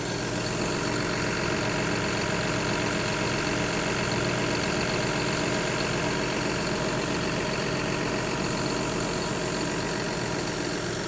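A John Deere 6175R tractor engine idles steadily after a warranty repair, a dense, constant mechanical drone with a faint knocking texture running unchanged and loud throughout, with no voices.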